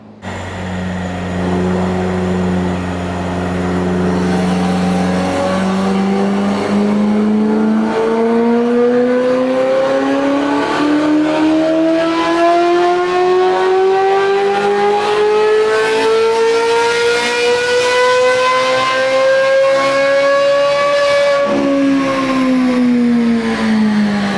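A C8 Corvette Z06 fitted with Kooks headers revving on a dyno, its loud engine note climbing steadily through a long pull before dropping sharply near the end, continuous and close.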